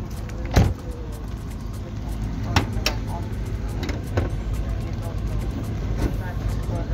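A Mercedes Vito diesel engine runs at a Kokand car market, a steady low rumble. Occasional sharp clicks and knocks sit on top of it, close by, with outdoor background noise.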